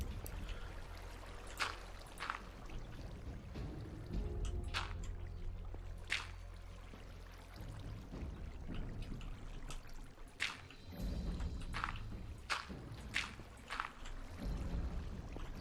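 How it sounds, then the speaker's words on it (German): Flowing water in the Life in the Woods game, a soft continuous trickling stream with intermittent sharp clicks and knocks over it, fairly faint and steady throughout. "Merkt man den Wasserfluss"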